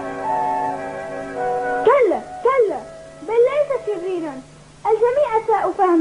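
A cartoon dog whimpers in long high whines, then lets out a run of short yipping barks and whining cries, loud and close, with talk around it.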